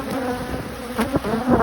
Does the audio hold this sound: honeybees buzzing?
yes